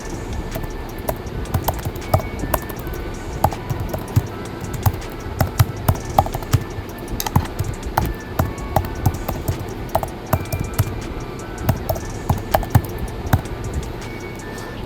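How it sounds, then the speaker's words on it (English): Keys on a computer keyboard clack in uneven bursts as a question is typed, close and fairly loud, with no talk. "Here I am typing a question about a professor"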